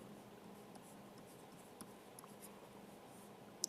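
Pen scratching steadily on paper while equations are written by hand during a tutorial, faint and close, with a few small taps near the end and no talking.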